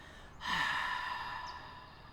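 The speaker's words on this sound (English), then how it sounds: "make the sound like you're fogging up a mirror" A single long, breathy exhale through the throat, soft and hissing like an ocean wave, close by and fading out slowly.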